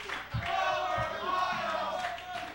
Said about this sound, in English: A crowd chanting Gomer Pile, and that's not going to bode well with Major Maniac.